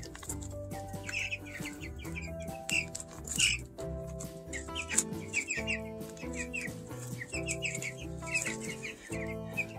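Backyard chickens on a small farm clucking and murmuring close by in a busy, continuous jumble of calls with no talking.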